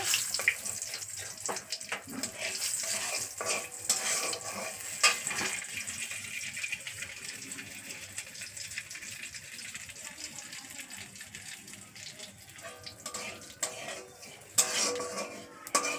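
Dried red chilies and a five-spice tempering sizzle in hot oil while a utensil stirs them, a steady broadband fry with scattered scraping clicks and a faint tap-like wash beneath, no one speaking.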